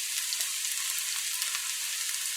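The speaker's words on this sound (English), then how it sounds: "We're gonna fry this up now for another 30-45 seconds." Onions, garlic and pepper fry in a pan in a continuous even sizzle with faint crackles, steady and fairly quiet throughout, with no voices.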